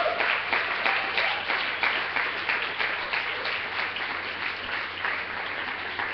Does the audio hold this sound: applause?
yes